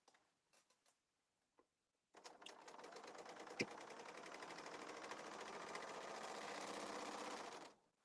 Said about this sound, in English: Whenever I use my serger with elastic, I do it twice